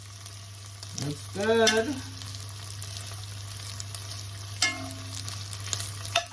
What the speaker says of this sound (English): Ackee and saltfish stir fry.